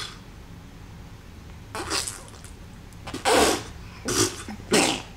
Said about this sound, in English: Let's give 2 or 3 more sneezes.